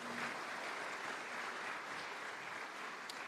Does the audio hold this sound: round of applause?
yes